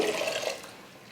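Water splashes briefly into a pot holding snake gourd and soaked moong lentils while a kootu is cooked, a short soft pour that fades out within a second.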